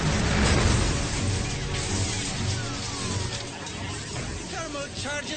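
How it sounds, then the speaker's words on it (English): Thermal charges detonating along a city's lower level in a Judge Dredd war drama, a loud rumbling blast roar that swells at the start and stays heavy under layered effects, with faint voices mixed in. "Thermal charges have ignited along City Bottom, War Marshal Kazan."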